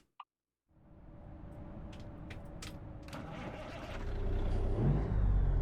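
A small click, then a Detroit Diesel 8V92 truck engine in American Truck Simulator starts and idles with a deep, steady rumble that grows louder and heavier toward the end.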